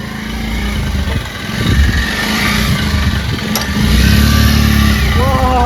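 Motorcycle engine running steadily and fairly close, with a rise in loudness partway through, under scattered voices of people talking nearby.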